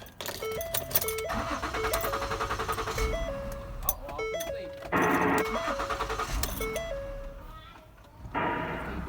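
A 2009 Ford Flex, just fitted with a new motor mount, cranks and runs close by, its engine noise rising in bursts while a repeating electronic chime tone plays over it.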